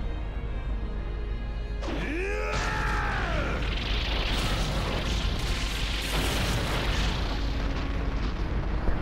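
A huge bomb detonates in Naruto Shippuden: Ultimate Ninja Storm 4, a loud sustained boom with swooping effects early on, then a dense rumbling roar that holds steady to the end.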